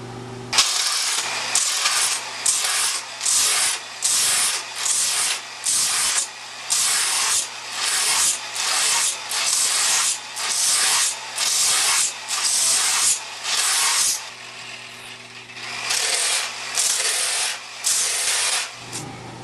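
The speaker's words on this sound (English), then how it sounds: "then go right into sanding the board" An epoxy surfboard is hand-sanded in steady back-and-forth strokes, roughly a dozen rhythmic rasping passes close up, a brief pause, then more strokes, with a low hum beneath and no talking.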